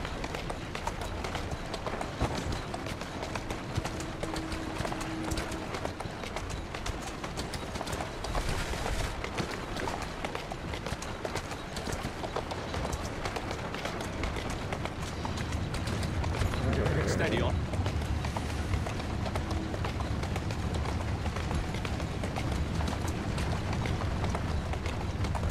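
A horse galloping in the video game Assassin's Creed: Syndicate, a quick run of hoofbeats in a steady rhythm, moderately loud and continuous under ambient game sound with a brief swell partway through.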